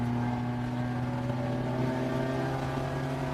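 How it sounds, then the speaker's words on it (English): A race car engine at NOLA Motorsports Park hums at a steady, low-throttle drone through the S-curves, with a constant tonal buzz and no sharp revving. "You hear how little throttle the 147 is using through the S's."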